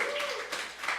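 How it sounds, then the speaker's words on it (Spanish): An audience at a sermon claps for themselves in a brief burst of scattered hand claps, fairly close, with voices talking over it. "Usted dese un aplauso."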